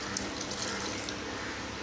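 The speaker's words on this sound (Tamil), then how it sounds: "இப்போ தண்ணி ஊற்றிக்கலாம்." Water pours steadily into a pot of cabbage kootu as it cooks, a close, continuous splashing stream for about two seconds.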